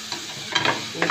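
Chopped spinach (palak keerai) being stirred in a pan, giving a short soft scrape and a faint sizzle with a few brief stirring strokes, close and fairly quiet.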